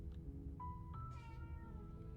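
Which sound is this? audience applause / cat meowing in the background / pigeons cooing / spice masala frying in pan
cat meowing in the background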